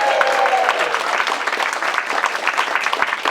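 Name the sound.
audience cheering and applauding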